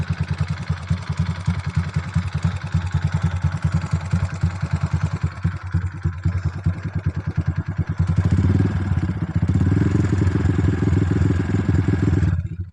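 A Supra X 155cc motorcycle idles nearby through a bassy exhaust, its rapid, even pulses thumping steadily; the note deepens and swells louder for the last few seconds before cutting off.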